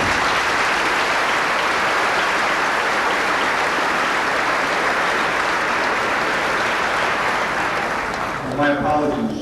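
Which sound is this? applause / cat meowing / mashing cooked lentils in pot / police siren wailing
applause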